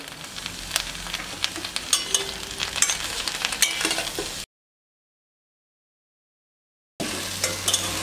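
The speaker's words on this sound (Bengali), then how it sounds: "দেখতেই পাচ্ছেন আমি এইভাবে একটু সিমগুলোকে ভেজে নিচ্ছি" Flat beans stir-fried in a pot for a mashed bean dish, steady close sizzling with scrapes and clinks of a stirring spoon, broken by a stretch of silence before the frying resumes.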